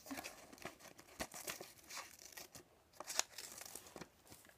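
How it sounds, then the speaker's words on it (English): Scissors cut paper into heart shapes with soft crinkling snips and rustles scattered irregularly, close but quiet, with no voices. "you want to just cut out a piece of paper and now you want to just cut out some"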